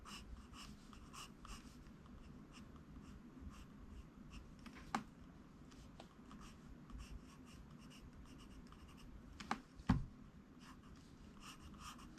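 A pencil draws a fist on paper, producing quiet, close scratchy strokes in short repeated bursts, with a few soft taps and faint breathing in a hushed room.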